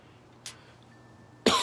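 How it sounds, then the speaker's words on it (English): A man smoking a pipe on a quiet night coughs twice, first a short faint cough, then a louder, harsher one close to the microphone after a second of near silence. "Excuse me if I just coughed in your"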